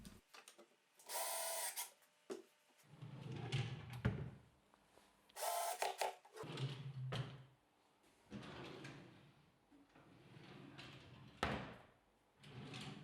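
Power tool driving screws into a wooden wardrobe front in a workshop, several short whirring bursts separated by pauses, close and fairly loud, no talking.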